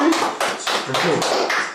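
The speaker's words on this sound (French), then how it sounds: "On applaudit, on applaudit." Applause from an audience at a dance competition, a dense wash of clapping that runs without a break for a couple of seconds and stays fairly loud and close.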